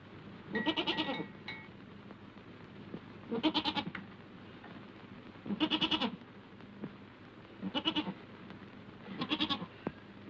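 Goat bleating in a farm setting, five separate wavering bleats spaced evenly about two seconds apart, fairly close and moderately loud over a low background hum.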